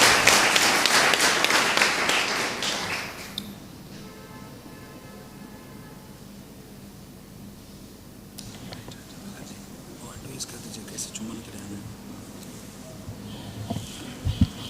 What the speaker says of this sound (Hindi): चलिए फादर जी के लिए जोरदार ताली बजाएं